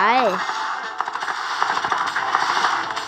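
Rapid crackling gunfire from shooting zombies in a math-based video game, a dense continuous volley of sharp shots under a steady game-sound bed, with a brief voice at the start.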